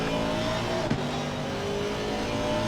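Race car engines drone steadily as cars run side by side in a sim racing game, a continuous close mechanical tone with a brief bump partway through.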